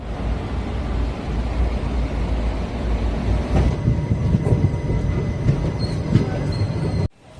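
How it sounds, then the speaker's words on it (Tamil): A passenger train hauled by an Arakkonam-based WAP-4 electric locomotive rolling near Nagore station in India, a steady loud rumble of wheels and carriages heard from on board, with faint squeals and knocks, cutting off sharply near the end. "நம்மளை இன்னைக்கு புல் பண்ண போகிறது பார்த்தீங்கன்னா அரக்கோணம் வேப் 4"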